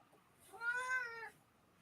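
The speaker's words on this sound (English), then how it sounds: "Cats." A cat gives a single drawn-out meow, close and clear, lasting under a second against a quiet background with no talking.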